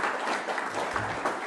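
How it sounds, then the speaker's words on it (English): Audience applause at a speaker series talk, a short burst of clapping from a crowd filling the whole clip with no talk over it. "round of applause for Tim."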